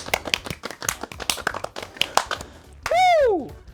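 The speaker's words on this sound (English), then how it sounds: "I think that deserves a round of applause." A few hands clap steadily and close up for a round of applause. The clapping is quick and uneven and runs for a couple of seconds before a voice breaks in with a loud rising-and-falling whoop.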